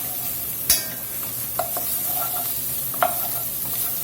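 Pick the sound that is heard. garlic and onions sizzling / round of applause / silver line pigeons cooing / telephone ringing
garlic and onions sizzling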